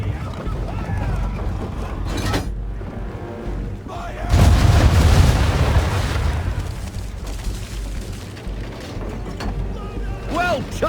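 Ship cannons fire a broadside in the Assassin's Creed III naval game: one heavy, rolling boom erupts midway and rumbles on over a steady background of wind, water and creaking ship.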